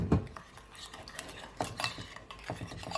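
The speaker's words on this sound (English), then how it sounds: "And you want to mix it all in like so." A utensil stirs olive oil into a jerk sorrel chicken marinade with scotch bonnet pepper in a bowl, making light irregular scraping and clinking against the dish, close and quiet, with a few sharper taps.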